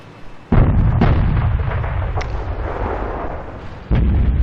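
Tank cannons fire in a World of Tanks battle, with two sharp, loud booming shots a few seconds apart, each followed by a rumbling decay, plus fainter impacts in between, with no talk.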